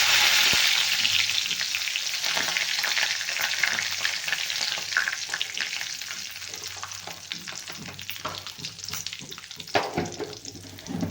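Mustard seeds, cumin and curry leaves sizzle loudly in hot oil in a pan, a dense, steady crackle and hiss with faint popping, close and continuous.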